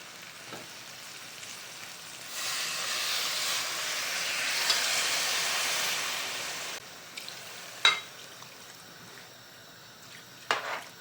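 A loud burst of sizzling as liquid hits hot oil, hissing steadily for several seconds before fading, followed by a few sharp clinks of a utensil.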